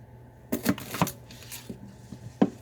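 A knife knocks on a cutting board as an onion is cut for lentil soup. The taps are sparse and uneven, a few sharp hits close by and quiet, with no talking.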